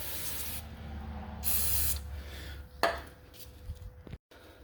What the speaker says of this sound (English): I've been hitting it with penetrant here,